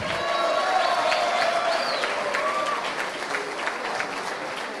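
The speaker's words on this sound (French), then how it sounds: "On l'applaudit bien fort là-bas." An audience at a political party's anniversary speech in London applauds loudly, with sustained clapping from a large crowd, a few whistles and faint cheers mixed in, fading slightly toward the end.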